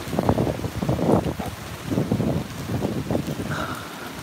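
Wind and rain from Typhoon Mangkhut batter the microphone in a steady, close, rushing roar that swells and eases over a few seconds, with no voices.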